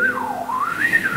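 A voice imitating the shrill whistling of a primitive old hearing aid worn with a chest box, one sustained wavering whistle that rises and falls in pitch, close and fairly loud.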